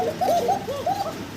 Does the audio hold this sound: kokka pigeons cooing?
yes